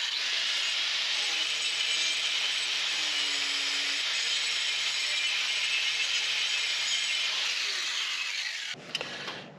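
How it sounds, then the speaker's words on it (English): A grinder wears down the pin heads of a motorcycle drive chain link, a continuous harsh high-pitched grinding held close and loud for nearly nine seconds, then stopping with a brief clatter. "I grind it down to where the heads of the pins are totally gone"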